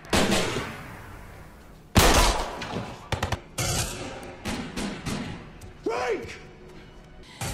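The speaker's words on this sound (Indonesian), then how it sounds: "Pertempuran tak terhindarkan dan tembakan meletus di antara kedua pihak" Gunfire in a film shootout, sharp loud shots and quick bursts scattered irregularly across the scene with echoing tails, one shot followed by a brief ricochet-like whine, while a narrator talks throughout.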